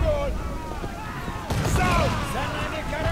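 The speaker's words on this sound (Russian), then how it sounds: "Стрельба из пушек." Ship cannon fire in Assassin's Creed 4: Black Flag booms out amid steady background music and effects, with a sharp blast near the middle over continuous busy noise.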